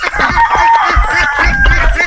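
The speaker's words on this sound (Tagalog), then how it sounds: "Yung native na manok, pumasok na naman." Native chickens cluck loudly and close by in a farm setting, with repeated short, busy clucks running continuously through the moment.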